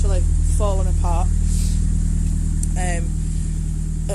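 A 1999 Nissan Avenir GT4-Z idles steadily with a custom 2.5-inch turbo-back exhaust, a low, even engine drone running throughout, close and loud, while someone talks over it.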